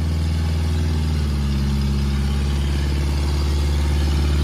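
A Massey tractor engine runs steadily and loud up close, a deep low rumble that shifts slightly in pitch partway through, with no voices.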